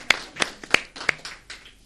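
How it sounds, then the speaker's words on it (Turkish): A small gathering in a village claps for a girl after she recites a poem, a handful of sharp, sparse hand claps at an uneven pace that quickly fade out. "Bir kez daha alkışlıyoruz"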